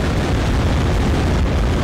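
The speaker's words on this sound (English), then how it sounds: "This one apparently does a blank explosion." Blank explosion effect from a crossfire AK-47 magazine in the game Unturned, a dense, loud, steady rumbling burst that fills the whole short stretch with no gaps.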